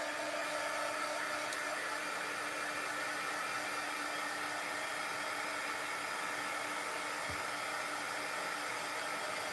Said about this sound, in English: Now take your heat gun and dry it.